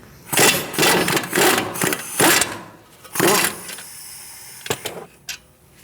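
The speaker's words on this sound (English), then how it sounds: "We're going to take out these 2 bolts with an 18mm socket." On a 2008-2014 Mercedes-Benz C300, caliper bolts come out with an 18mm socket, heard as several loud bursts of tool noise in quick succession followed by a couple of short, sharp clicks.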